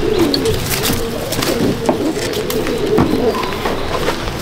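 Pigeons, a hen among them, coo in a loft at Andul, Howrah: repeated low burbling calls overlap near and steady, with light rustling and a faint chirp, and no talking.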